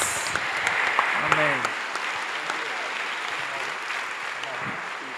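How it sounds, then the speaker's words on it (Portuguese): A church congregation applauds during a Portuguese-language service, a continuous broad patter of clapping with faint voices and a brief tonal sound underneath. "Uma salva de palmas para os nossos heróis."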